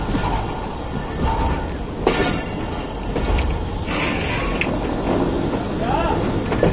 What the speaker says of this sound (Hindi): तो गाड़ी हमारी स्लो मोशन में इंटर हो रही है, बहुत ही खूबसूरत व्यू है यहाँ का